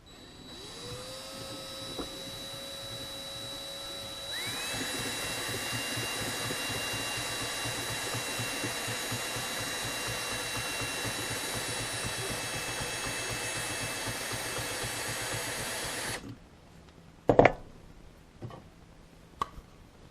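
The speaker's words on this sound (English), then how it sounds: "I'm going to attach my drill" Power drill spins steadily to twist wire around fibers for a handmade brush, a continuous whirring motor tone that rises in pitch partway through, then stops, followed by a few sharp clicks and handling knocks.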